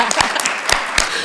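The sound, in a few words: audience applause in conference chamber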